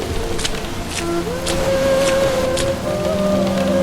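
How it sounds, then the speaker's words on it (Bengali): Light rain patters steadily at a cremation ground, a soft, even hiss with faint drops, accompanied by sustained tonal background sounds and no speech. "বৃষ্টি অল্প কমে এসেছে"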